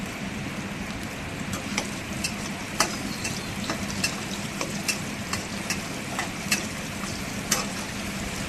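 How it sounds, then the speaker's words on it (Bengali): Potatoes fry in a pan until browned, with a continuous moderate sizzle and scattered sharp clicks and scrapes from a stirring spoon against the pan. "আলুগুলো লাল লাল করে ভেজে নিয়ে"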